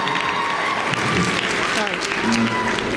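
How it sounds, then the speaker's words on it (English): An audience clapping at a Q&A with an actor in Toronto, a steady, fairly loud patter of hands heard together with talking voices. "Oh, we're going to clap."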